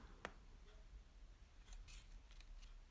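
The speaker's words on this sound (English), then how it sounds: "I want to cut off her pretty little" Scissors cutting a doll's hair, a few quiet, crisp snips spaced apart over a low, soft room background, with no talking.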